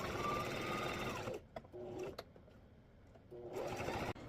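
Sewing machine stitching around the top pocket of a fabric card holder, running in two loud bursts with a quieter gap of short clicks and a brief hum between them, no talk.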